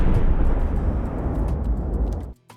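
Layered explosion sound effect built for a game, a loud full-bodied rumbling blast with a dense low end, sustained for about two seconds before cutting off abruptly, with a small faint tail after.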